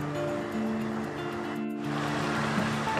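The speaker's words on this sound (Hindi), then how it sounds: "इसका पानी थोड़ा मैंने सुखा रही हूँ, थोड़ा सा ड्राई कर रही हूँ।" Chicken lababdar simmering in a pan on a gas stove as its water cooks off, a steady close sizzle and bubbling hiss with a faint hum underneath.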